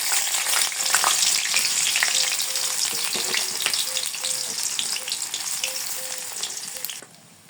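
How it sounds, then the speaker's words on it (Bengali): Rice fries in oil in a wok with a dense, steady sizzle, broken by scraping spoon strokes and the light knock of the utensil against the pan; the crackle fades near the end. "আজকে সকালবেলায় ভাত ভাজবো, এর জন্য আমি কড়াইতে তেল দিয়ে দিই।"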